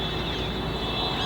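Large winter flock of waterbirds at Lalpari Dam in Rajkot, Gujarat, India, giving a steady, dense wash of honking and calling, fairly distant and continuous throughout with no talk.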